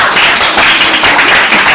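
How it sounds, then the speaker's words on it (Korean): A seminar audience claps at the close of a session, a dense burst of many hands that holds fairly loud and even for under two seconds with no voices over it. "우리 박수 한번 치고 마칩시다."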